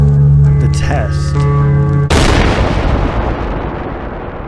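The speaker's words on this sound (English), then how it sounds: "So that was what they're testing the atomic bomb." A loud atomic bomb test blast erupts abruptly after a stretch of tonal music, a sudden broadband roar that rumbles on and slowly fades over several seconds.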